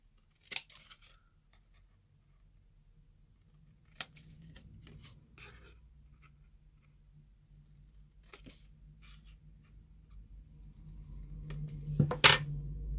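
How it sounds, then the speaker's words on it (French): A few sharp scissor snips trim the ends of paper for a handmade card, separated by quiet pauses, with a louder snip and handling noise near the end. "je vais prendre une paire de ciseaux, tout simplement, et je vais venir couper"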